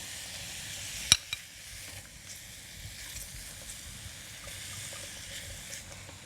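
Rutabagas and mushrooms sautéing in oil, a soft continuous sizzle with a couple of sharp clicks early on as the pan contents are stirred.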